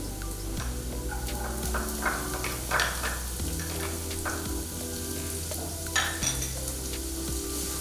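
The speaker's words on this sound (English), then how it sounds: "Saute the onion till it becomes translucent." Garlic and onion sauté in hot oil with a steady crackling sizzle and intermittent scraping stirs of a utensil against the pan, close and moderately loud, with no voices.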